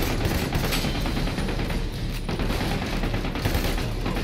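Sustained gunfire in the video game Army of Two, a dense, continuous rattle of shots and impacts filling the scene at steady loudness with no pauses, as during an evacuation firefight.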